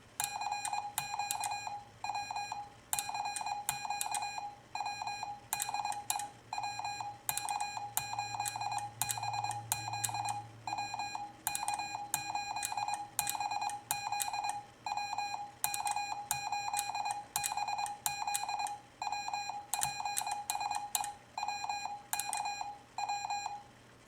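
An MFJ-490 memory keyer sends Morse code as crisp electronic beep tones, short dots and longer dashes in steady rhythmic groups with brief gaps between characters, close and clear.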